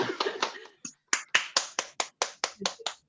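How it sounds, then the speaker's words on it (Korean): A small group claps in a workshop or parenting class, about a dozen sharp, separate claps in a fairly even rhythm after a brief flurry. The claps are close and moderately loud, with a short pause near the start. "박수 쳐주세요."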